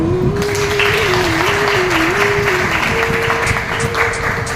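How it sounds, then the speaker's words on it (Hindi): An audience at a college farewell program claps for their mentor, a steady, close round of applause with a sustained tonal hum running beneath it. "हमारे मेंटर के लिए एक बार जोरदार ताली हो जाए"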